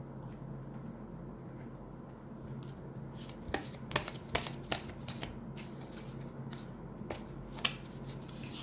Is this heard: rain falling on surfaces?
no